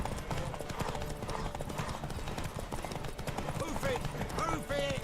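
Horse hooves gallop in a steady, rapid clip-clop rhythm in The Witcher 3: Wild Hunt video game, loud and continuous beneath music and battle sounds, with a brief whinny near the end.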